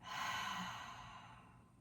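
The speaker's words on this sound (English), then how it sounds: "And then open the mouth and let it out." A deep exhale through the open mouth during a yoga breathing exercise, one long breathy rush of air, close and soft, tapering off gradually.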